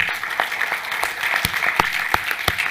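Audience at an art salon prize ceremony applauding a newly introduced culture director, brisk clapping with a few sharp individual claps standing out over roughly three seconds.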